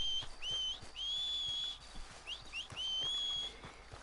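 A player whistles for a horse in Red Dead Redemption 2; a series of sharp, clear high whistle tones with rising and sliding notes, repeated several times in short bursts at moderate loudness.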